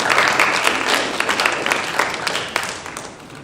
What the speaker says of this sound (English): So if everyone wants to give a round of applause for our panelists